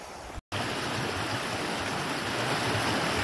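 Creek water in the Hercules-Glades Wilderness Area rushes steadily in a broad, continuous wash, fairly close and alone, after a brief dropout at the start.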